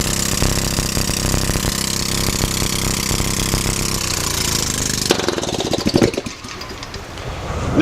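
A small hydrogen-fueled engine runs steadily with a rough, rapid chugging roar, then the sound shifts and sputters unevenly near the end.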